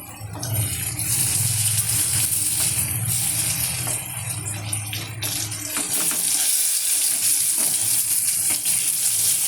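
Pointed gourd slices, cut lengthwise and seasoned with turmeric and salt, frying in a pan: a steady, broad hiss of sizzling oil with occasional stirring clatter, continuous throughout with no talking.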